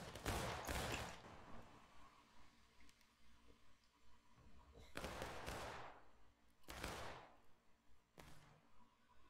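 Musket volleys crash out in War of Rights, a handful of sharp, loud broadband bursts spaced several seconds apart, each trailing into a brief rumble over a quiet battlefield background.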